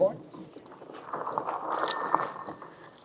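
A bicycle bell rings out briefly with a bright metallic ping amid outdoor background noise and murmuring voices on a ride past a campsite.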